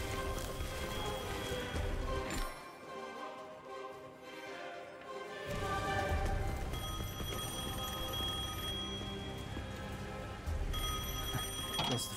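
Telephone ringing in the video game Devil May Cry 5, a bright repeated electronic ring over game ambience with a patter like rain and a brief quieter stretch between bursts.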